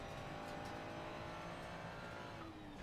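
A race car in the racing game Assetto Corsa Competizione drones along at steady high revs, its tonal engine note holding loud and close before dipping briefly as the revs fall near the end.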